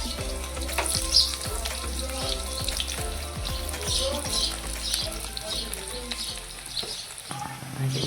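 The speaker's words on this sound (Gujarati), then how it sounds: "તેલ ગરમ થઈ ગયું છે હવે એમાં નાખવાની છે ફર્સ્ટ ડુંગળી" Onion fries in hot oil for pasta, crackling with a loud, continuous sizzle broken by repeated scraping stirs against the pan, close up and without talk.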